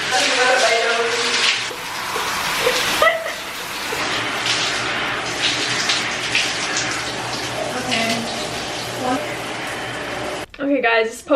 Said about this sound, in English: we're gonna hop in the shower, wash this off